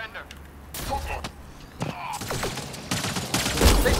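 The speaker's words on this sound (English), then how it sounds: "They shot him." Gunfire in Mass Effect Andromeda shoots down a surrendering man: several sharp shots crack out in quick succession amid game sounds and voices, building toward the end.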